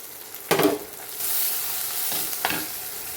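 Onion and tomato sauté in a pan with chili, turmeric and pepper powders, sizzling steadily close by, broken by a few sharp spatula scrapes and stirs.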